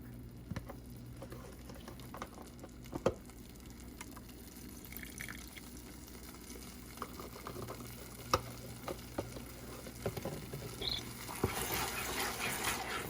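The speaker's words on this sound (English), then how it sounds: "So just gonna give it a good stir." Vegan cheese sauce stirred in a pan, a soft, steady wet scraping and bubbling with occasional clinks, faint and continuous throughout.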